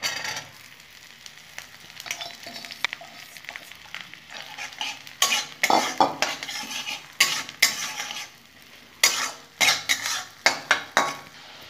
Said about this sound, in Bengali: আর এখানে লঙ্কা আছে, আমি ভেজে নেব।